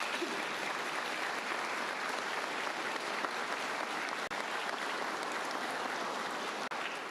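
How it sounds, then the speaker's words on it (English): Sustained, dense applause from a large crowd at a state government public-safety event in Alabama, even and unbroken for about seven seconds, with no talking over it. "Let us give all the round of applause to these people today for what they've done for our state already."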